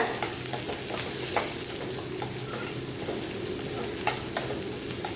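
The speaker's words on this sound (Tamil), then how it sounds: "வெங்காயத்தை சேர்த்துட்டு நல்லா வெங்காயத்தை வதக்கி விட்டுருங்க" Onions sautéing in a pan for mint rice, a steady close sizzle broken by a few clinks of a stirring spoon, with no talk.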